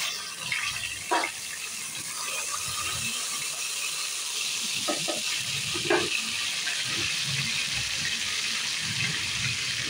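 Tomato dropped into hot oil already sizzling with tempering spices gives a steady hiss of frying, with a few sharp clicks and clatters of utensils along the way, close by and without speech.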